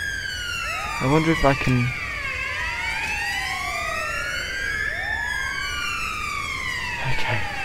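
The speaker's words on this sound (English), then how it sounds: "where's the other siren coming from? Because that's really annoying me now." A British police-style emergency vehicle siren wails in the GTA V video game, several overlapping sweeping tones rising and falling continuously, with brief bursts of a second warbling horn and a short spoken remark.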